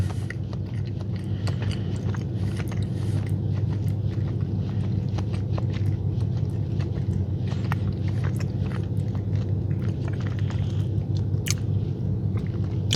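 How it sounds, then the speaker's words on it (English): Someone chews a soft, moist blueberry muffin with crumb topping close to the microphone, steady quiet mastication with faint squishy bites and an occasional small crunch. "I'm not getting a whole lot of crunch from the topping"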